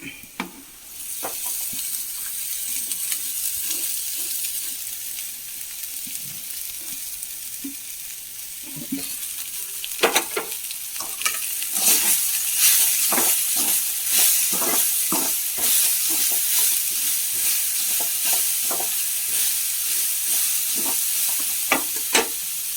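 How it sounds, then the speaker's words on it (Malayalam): Chopped banana flower fries in a hot pan, a constant hiss and sizzle broken by repeated scraping stirs that grow busier partway through, close and with no talking. "നമുക്ക് വാഴക്കുടപ്പൻ അരിഞ്ഞത് ഇട്ട് കൊടുക്കാം"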